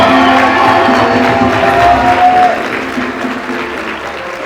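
Congress delegates in a large hall applaud loudly, a dense, steady wash of clapping with some cheering that eases slightly toward the end.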